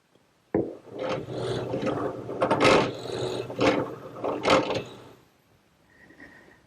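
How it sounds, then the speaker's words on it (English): Drilling a hole for a ladder-back chair's side stretcher with a 3/4 inch bit in wood: a sudden start into steady grinding, rasping bit noise with several louder surges, stopping near the end with faint mechanical whir after. "now I'll switch to a 3/4 inch bit and drill the hole for the side stretcher"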